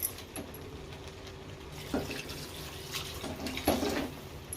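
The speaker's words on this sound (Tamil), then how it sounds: "இப்போலாம் நம்ம வந்து தண்ணி சேர்க்கணும்" Water pours steadily into a pot of chicken kurma, a soft continuous splash with a couple of light clinks along the way.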